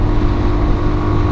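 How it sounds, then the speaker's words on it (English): Engine exhaust of a bulky, well-balanced motorcycle at wide open throttle, a loud, steady, sporty drone with rough low rumble and wind buffeting, continuous with no talk. "Has a nice and sporty exhaust note kind of a thing."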